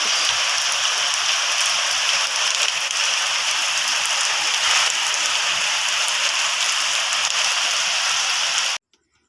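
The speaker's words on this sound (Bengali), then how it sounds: "আর বৃষ্টি" Steady heavy rain falling outside during cooking, a loud constant hiss of drops on surfaces that cuts off abruptly near the end.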